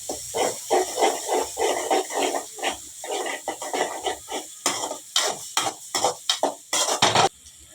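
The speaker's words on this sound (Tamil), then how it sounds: "இப்போ முட்டையும் போட்டு ஃப்ரை பண்ணிக்கலாம்" Egg frying in a pan with noodles, heard as a steady run of close, bursty sizzles and scraping stirs, loud and rhythmic, with no voices.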